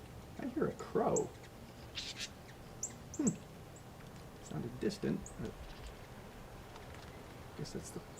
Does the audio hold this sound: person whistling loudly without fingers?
no